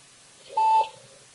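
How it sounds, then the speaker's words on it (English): A single short electronic beep from an alarm meter on channel 1, a clean steady tone lasting about a quarter second at moderate level over a quiet background. "The beeping is for the second alarm meter for channel 1"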